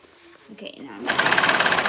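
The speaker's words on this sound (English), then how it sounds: "it's called chain off. You just keep sewing past the fabric." A serger sews a chain off past the end of the fabric, with its blade turned off. After a second of quieter sounds and a voice, the machine starts up near and loud with a fast, steady, rhythmic whir.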